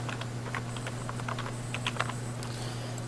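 Fingers type on a computer keyboard in quick, irregular clicks, close and moderately loud over a constant low electrical hum, with no talking.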